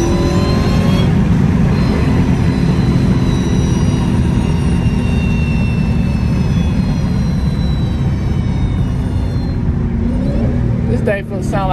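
A 900 hp Hellcat car's engine winding down, a loud sustained roar with a whining, falling tone like a slowing aircraft that fills the whole clip, with voices underneath.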